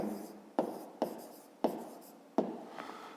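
A pen scratches out a fifth-grade math solution in four quick, distinct strokes, each starting sharply and trailing off into a soft scraping sound, close and quiet with no talking.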